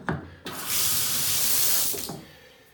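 Water runs from a Delta bathtub faucet after its hot and cold stems and seats were replaced, starting with a couple of knocks and then a strong, steady rushing hiss that fades slightly before the end.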